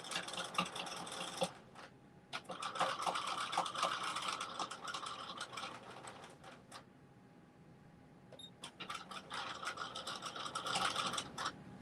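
A sewing machine stitching a pocket all the way around a headband, running in bursts of close, buzzy whirring with a short pause between runs.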